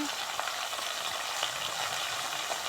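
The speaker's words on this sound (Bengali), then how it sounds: "বাটা মশলাটা সুন্দর করে নাড়াচাড়া দিয়ে নিতে হবে" Ginger-garlic spice paste stirred and fried in a pan for a vegetarian vegetable dish, giving a steady close sizzle and hiss throughout, with faint scraping from the stirring and no talk.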